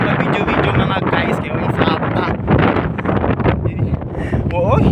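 Strong wind buffets the microphone outdoors in a loud, continuous low rumble, with people talking underneath.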